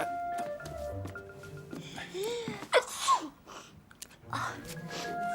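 A sneeze bursts out mid-scene in a French teen drama, loud and close, preceded by a gasping intake and followed by a second sharp burst, with background music and voices around it.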